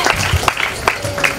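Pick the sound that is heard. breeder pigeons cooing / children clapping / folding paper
children clapping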